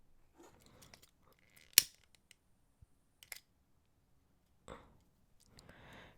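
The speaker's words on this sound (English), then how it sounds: "So just snip off this excess cord." Scissors make a few sharp, close snips trimming excess macrame cord from a double-strand bracelet, separated by quiet gaps with small handling noises.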